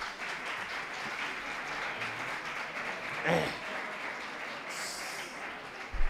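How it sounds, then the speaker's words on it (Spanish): Audience applause after a talk at an economics conference in Segovia, a steady, moderately faint wash of clapping from a crowd filling the whole stretch, with a brief voice and a clatter near the end. "Gracias por el aplauso"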